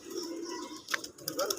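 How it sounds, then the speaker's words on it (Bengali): Pigeons at the Loknath Baba ashram cooing softly in low, rounded calls, with some faint clicking and fluttering sounds at a distance and no talking. "সকালবেলা ঘুম থেকে উঠে সবাই দেখে কবুতরের ঝাঁক।"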